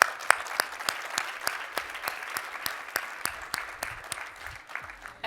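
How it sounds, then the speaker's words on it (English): Applause for a sponsor at an LGBTQ+ money event comes as sharp, evenly spaced claps in a steady rhythm, moderately quiet and continuing for several seconds. "Let's give Experian another round of applause."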